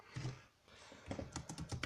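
Keys clack on a Dell Inspiron 15 laptop keyboard in short quick bursts, close and fairly soft, with a brief pause between typing runs.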